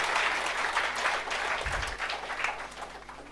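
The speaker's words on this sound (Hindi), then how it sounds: "हाँ ताली बजाओ यार" Students in a classroom clap together in a steady, dense burst of applause that carries through the whole moment, fairly close and moderately loud, with no clear talk over it.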